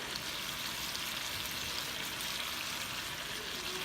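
Garlic and shallots frying in a small skillet, giving a faint, even, continuous sizzling hiss with no talking over it.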